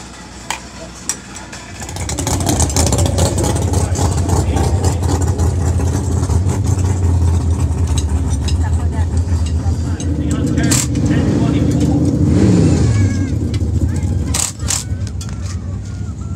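Injected nitro-burning A/Fuel 484 cubic inch Keith Black Hemi drag racing engine fired up in the pits, a loud rumbling roar that starts after two seconds and holds steady with revs rising, while people talk over it.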